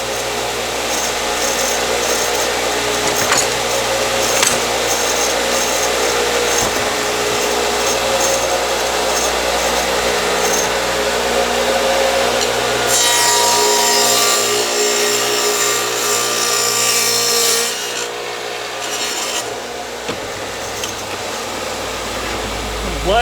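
Table saw with a dado stack cutting black walnut, a loud sustained whirring hum with a brighter grinding rise during the cut midway, then winding down toward the end, no clear talk.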